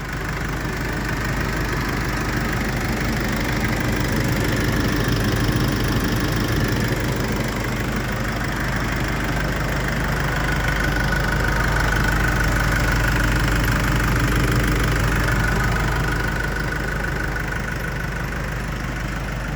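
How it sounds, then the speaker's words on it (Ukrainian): A Nissan Pathfinder R51 2.5 YD25DDTi diesel engine idles steadily and evenly, a continuous low rumble with a faint knocking texture, close by and with no talking. "Мотор працює рівно, тихенько."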